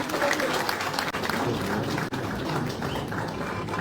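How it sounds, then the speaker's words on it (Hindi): An audience at a televised news debate applauds steadily throughout, a dense and loud wash of many hands clapping at once with no letup, under a faint trace of voices. "तालियां इस राउंड के लिए।"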